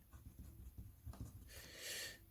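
A short, faint scratch of chalk or marker on a board during a French-language economics lecture, rising to a brief broadband stroke near the end in a quiet room.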